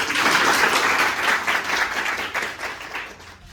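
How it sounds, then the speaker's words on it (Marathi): Sustained audience applause from a classroom crowd at a teacher-training history lesson demonstration, dense and steady for a few seconds, then gradually thinning and fading toward the end. "इतक्या कंजूसी नाही करायची टाळ्यामध्ये."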